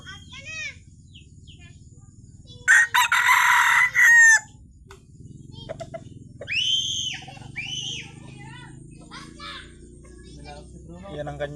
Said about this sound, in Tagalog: Yan ang kanyang tilaok.